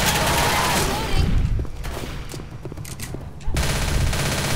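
Gunfire in Left 4 Dead, loud and close, with rapid overlapping shots in dense bursts and a short lull midway, under voices talking.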